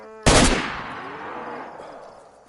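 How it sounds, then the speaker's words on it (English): A single AK-47 shot in a video game cracks out loud and close, followed by a long, fading echo tail. "Did you hear that gunshot?"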